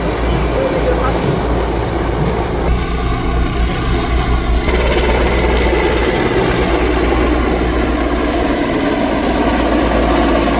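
Army aviation helicopters fly past over a national parade ground on Independence Day, producing a loud, continuous rotor and engine roar that fills the whole stretch without a break.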